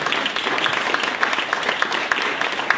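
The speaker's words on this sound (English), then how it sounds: "So let's give one big last round of applause to Ryan." A seated audience at a talk applauds in a dense, steady round of clapping. Moderately close and continuous, with no voices over it.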